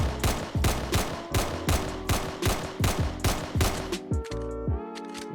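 A gun in a Roblox survival game fired while aiming, about ten evenly spaced close shots in a steady rhythm, followed by a short mechanical clicking and reload-like sound at the end.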